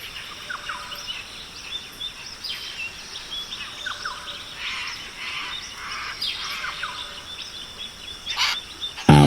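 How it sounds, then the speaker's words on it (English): Macaws calling in the Amazon rainforest of Guyana: scattered bright squawks and chirps over a steady hiss of forest insects, moderately distant, with a louder burst at the very end. "The macaw."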